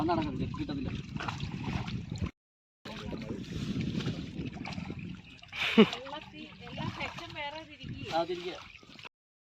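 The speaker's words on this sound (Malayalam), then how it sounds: "വല പയ്യ വെള്ളത്തിൻ്റെ അടി കൂടെ അങ്ങോട്ട് കൊണ്ടുപോയാൽ" A fishing net drawn slowly through water during a catch of small fish, with a sharp splash near the middle amid ongoing wet sloshing, while people talk throughout.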